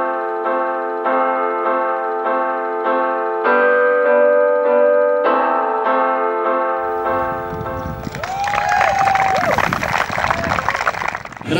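Applause for the winners at the Deutsche Bank Wroclaw Open golf tournament rises as a dense, loud wash of clapping, following a steady run of tonal music.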